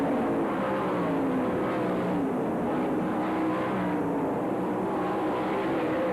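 Sprint car engines roar in a heat race of the All Star Circuit of Champions Winternationals at Gibsonton, Florida, a continuous loud drone of racing motors that stays steady without pause.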